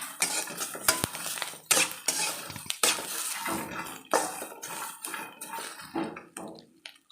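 Chutney ingredients, including mango leaves, frying on a low flame in a pan while being stirred, with busy scraping and clanking of a metal spoon against the pan over a faint sizzle.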